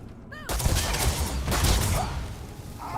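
Gunfire from a Beowulf rifle in the Starfield video game comes as a dense burst of loud, close shots with crashing impacts. A short electronic game sound plays before the shots and a faint tone follows them.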